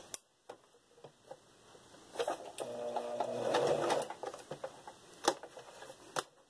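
A sewing machine stitches around the trim of a throw pillow, giving soft irregular ticks and clicks with a brief steady whirr of running stitches in the middle, close and moderately quiet.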